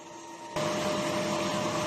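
A DTF printer running its head clean cycle, a steady mechanical whir with pump noise that starts quietly and then jumps to a louder, continuous hum after about half a second, close by with no talk.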